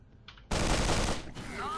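In the video game Sword of the Stars: The Pit, a loud burst of gunfire erupts after a quiet moment, a dense roaring blast followed by a fading tail and a faint electronic tone.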